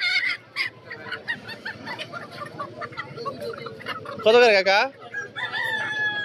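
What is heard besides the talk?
chickens at a poultry market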